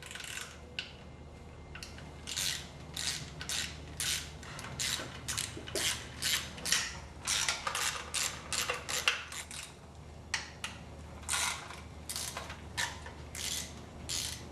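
Rapid ratchet clicks loosening five 12mm bolts from a Nissan KA24DE timing cover, repeated bursts of close, sharp ticking with short pauses between bolts, no talking.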